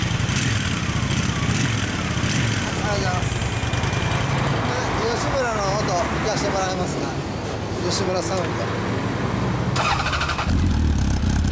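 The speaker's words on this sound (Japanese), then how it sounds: "エンジン音聞かせてもらえますか。" A 2008 Honda CB1300 Super Four fitted with a Yoshimura exhaust idles with a steady, low, throaty rumble close by, while people chat over it throughout.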